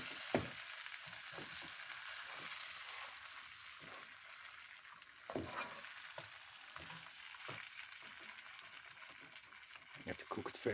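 Turkey drumsticks frying slowly in a pan, a soft steady sizzle with occasional pops and crackles, fairly quiet throughout, with a person speaking at times.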